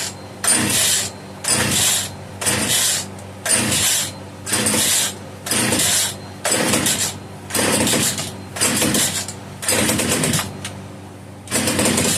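A rare Italian-made Castor 330 Antivib chainsaw, built by Alpina and hard to choke, is pull-started over and over: about ten evenly spaced, rasping recoil-cord pulls, each roughly half a second long, with no engine catching between them.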